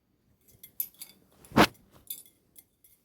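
Chocolate tea cake batter, with the rest of the flour added, is stirred in a bowl: scattered light utensil clinks and scrapes against the bowl, with one louder clatter in the middle, close and fairly quiet.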